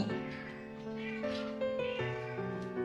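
A roughly two-month-old kitten cries and meows without pause, a close, whiny, drawn-out wail whose pitch shifts every half second or so across nearly three seconds.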